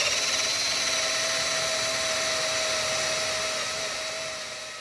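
A power drill bores a hole for a Kafer bar install on a 1956 Volkswagen Beetle oval ragtop, giving a steady, close, high-pitched whine that winds down at the end, with no talk.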